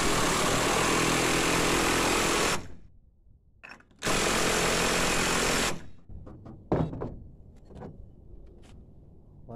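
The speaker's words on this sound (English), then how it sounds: "Just shoot that down with your impact gun." Impact gun spinning down a nut during motorcycle final drive reassembly, two long loud buzzing bursts of a few seconds each separated by a short gap, followed by quieter clicks and handling noises.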